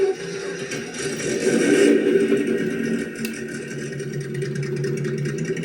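Simulated engine rumble from a sound module fitted to a WPL B36 Ural RC truck, a steady mid-pitched droning hum that swells briefly and then settles to an even idle.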